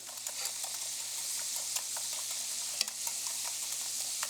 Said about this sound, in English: we're gonna whisk this up